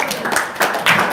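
An audience claps hands in a short burst, crowd clapping swelling in two steps over about a second, fairly close and loud.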